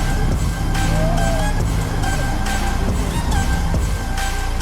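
Ferrari supercar engine droning steadily at close range, a continuous motor hum lasting a few seconds with no speech over it.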